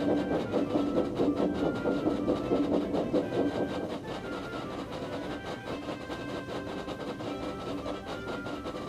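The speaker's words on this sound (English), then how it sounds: "The heavy train drew out of the platform." A heavy express train, triple-headed by three small steam tank engines, pulls out of a station platform, giving a steady, loud rumble with rhythmic rail clatter and a continuous mechanical drone.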